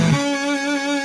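A single guitar chord rings out and sustains, its tones holding steady and slowly fading, heard close and alone.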